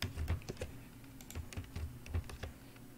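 Quick keystrokes on a computer keyboard as copy and paste shortcuts are entered in Microsoft Word: a close, quiet run of irregular clicks, some in tight pairs, with no talk over them.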